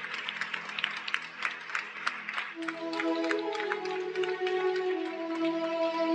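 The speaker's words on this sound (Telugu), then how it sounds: "అందరు గట్టిగా చప్పట్లు కొట్టాలి." A church congregation claps hard and fast in a dense, steady burst during worship, then the clapping thins as sustained organ-like music swells and takes over.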